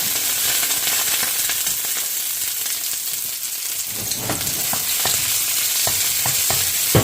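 Onion and garlic sautéing in hot chili oil for pork and beef adobo, a loud continuous sizzle with scattered crackles and stirring scrapes throughout, close up with no voices.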